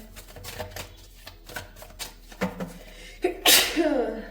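A woman sneezes once, loud and close, near the end, after a stretch of quiet shuffling and small taps in a room.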